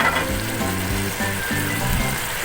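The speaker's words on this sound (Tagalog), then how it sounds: "Haluin po natin ng bahagya." Adobo squid simmers and fries in a pan while being stirred lightly, a loud continuous sizzle with soft scraping movements and no voices.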